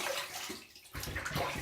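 Water runs and splashes while Dr. Bronner's peppermint castile soap is rinsed away, a steady close rush with a short lull in the middle and no voices.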